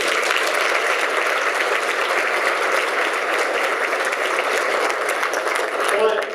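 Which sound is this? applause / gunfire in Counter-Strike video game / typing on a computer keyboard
applause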